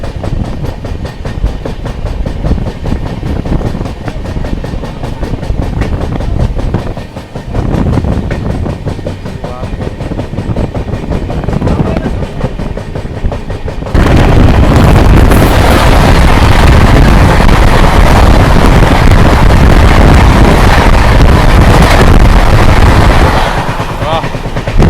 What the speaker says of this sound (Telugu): ఏం పరిగెట్టింది ట్రైన్